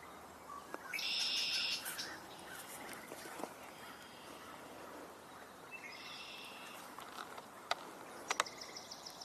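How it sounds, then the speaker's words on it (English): A swamp sparrow sings outdoors in a marsh, two short trilled phrases some seconds apart, faint and a little distant, over a steady hiss of insects and other faint bird calls. "Swamp sparrow, just heard."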